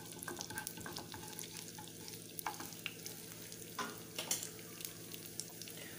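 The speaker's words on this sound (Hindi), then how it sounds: "अभी हमने इसको 1-2 मिनट के लिए थोड़ा भून लेना है," Cumin seeds frying in hot oil for an aloo matar curry, giving a steady close sizzle with occasional stirring scrapes and crackles throughout, with no talking.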